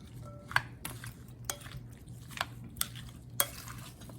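Peeled fresh apple slices being mixed into a creamy fruit salad, giving a handful of sparse, soft clinks and wet stirring taps spaced irregularly over a low steady hum, close and quiet.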